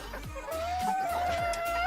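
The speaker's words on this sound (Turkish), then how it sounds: "2 horoz, 3 tavuk ispencimiz var." A Spanish (ispenç) breed rooster crows in a long, drawn-out call while hens cluck and chatter around it, close and loud in a farmyard.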